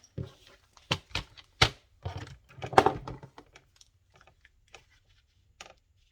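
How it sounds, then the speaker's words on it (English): Blade slicing through a junk mail envelope: a few short, sharp cutting scrapes in a quick burst, then sparse faint ticks and taps, close and fairly quiet with no talk. "I'm going to cut this side"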